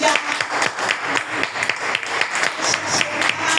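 A church congregation applauds in sustained, dense clapping that swells and ebbs in waves, with scattered voices mixed into the crowd noise.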